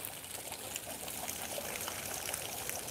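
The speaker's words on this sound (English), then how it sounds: "we listen to the sound of water." Flowing water in a formal garden, a steady broadband wash of trickling and pouring that fills the clip evenly at moderate loudness, with no talk over it.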